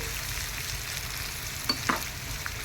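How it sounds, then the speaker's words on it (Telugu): Small chopped onion frying gently over a low flame, a steady soft sizzle with a couple of faint stirring clicks near the end, close and quiet with no voices. "ఒక చిన్న సైజు ఉల్లిపాయ కట్ చేసుకొని సిమ్లో పెట్టుకొని వేయించుకోవాలండి"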